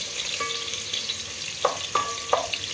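A medium-sized onion frying in 20 ml of oil gives a steady close sizzle, with a few sharp clinks and scrapes of a utensil against the pan.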